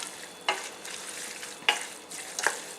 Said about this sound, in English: And then just give it a good stir.